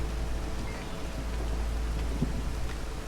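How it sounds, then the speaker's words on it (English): Steady heavy rain from the city-building video game Against the Storm, a dense continuous wash with a low rumble underneath and a faint thunder-like swell, no voices. "Well, now we're in the bad part of the storm."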